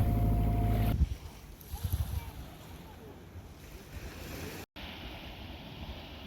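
Sailboat off the Canary Islands lowering its sail, with a loud burst of flapping, rattling sail noise for about a second, then steady waves and wind washing against the hull.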